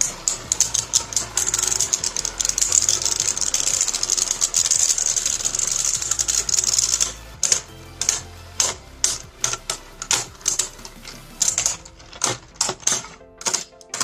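A Geist Fafnir Beyblade spinning in a battle against a fake diamond, first a steady high whirring spin, then a run of rapid clattering knocks and ticks as the tops collide and wobble.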